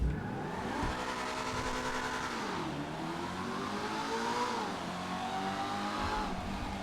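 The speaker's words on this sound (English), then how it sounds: "This car sounds nice." A car engine in the video game GTA V revs up and down steadily, a smooth mid-pitched whine rising and falling, with no talking.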